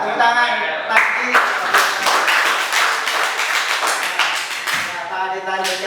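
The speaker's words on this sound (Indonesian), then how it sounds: "ya, tepuk tangan lagi." A classroom group claps, a steady burst of applause lasting several seconds, close and fairly loud, fading at the end.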